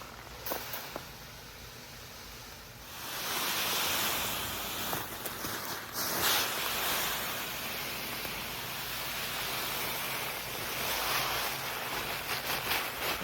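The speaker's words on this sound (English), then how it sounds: "And that's our 50-pound sack of this particular fertilizer loaded into the hopper" A 50-pound sack of fertilizer pours into the hopper of a Chapin tow-behind spreader, the granules making a sustained hissing, rushing pour that swells after a quiet start and carries on with small rattles and bumps.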